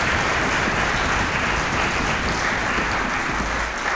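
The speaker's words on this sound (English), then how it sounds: "Big round of applause for them." Loud, sustained applause from a crowd at a chorus concert, dense and steady clapping filling the space without a break.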